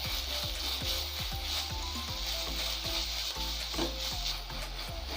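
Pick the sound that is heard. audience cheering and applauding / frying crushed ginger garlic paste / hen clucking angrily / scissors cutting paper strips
frying crushed ginger garlic paste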